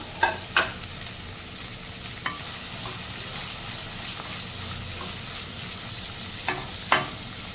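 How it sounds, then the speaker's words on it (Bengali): Chopped onion sizzles and fries in hot oil for mutton biryani, a steady close crackle broken by a few sharp stirring scrapes and clinks of a spoon against the pan. "আমার তেলটা গরম হয়ে গেছে, আমি এবার পেঁয়াজটাও অ্যাড করে দিচ্ছি"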